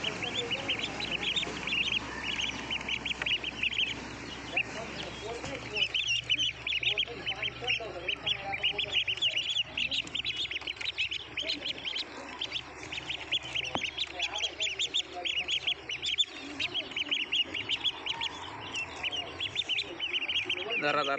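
A flock of ducks quacks continuously nearby while being fed dead fish, dense overlapping calls with some chicken-like clucks, and a person talks intermittently in the background.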